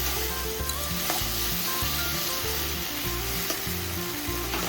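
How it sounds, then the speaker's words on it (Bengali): Dried fish frying with spices in a pan, a dense steady sizzle throughout, with a low rhythmic hum and occasional stirring clicks, heard close with no talking. "এবার এটাকে একটু ঘেটে ঘেটে ভেজে নেব।"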